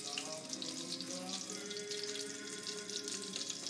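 Tap water runs steadily into a bowl of eggs being prepared for eggplant parmigiana, a continuous close splashing stream with faint kitchen clatter and no talk over it.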